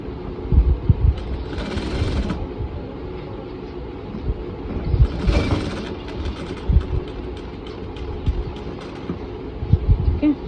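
A sewing machine runs steadily while stitching a pocket onto a blouse, giving a continuous rattling mechanical whir with brief louder bursts, close and loud.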